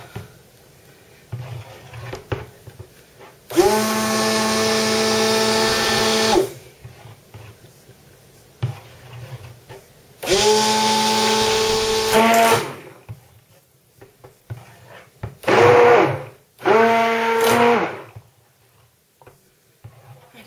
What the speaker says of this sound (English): What's wrong with this blender?